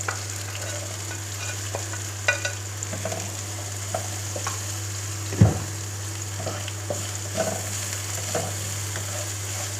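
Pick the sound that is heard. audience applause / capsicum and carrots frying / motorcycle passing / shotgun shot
capsicum and carrots frying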